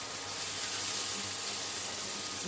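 Garlic, ginger, dried chili and cumin fry in a pan with a soft, steady sizzle, faint and continuous with no talk over it.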